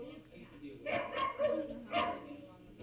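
A puppy gives three short, fairly close barks and yips in quick succession, with quieter voices around it.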